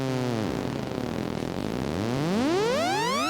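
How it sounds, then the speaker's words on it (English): A Behringer Neutron analog synthesizer sweeps through warbling, buzzy tones whose pitch bends downward and then climbs in a rising glide, like an eerie spaceship sound. "Behringer neutron, it's great, and it makes loads of weird sounds like this."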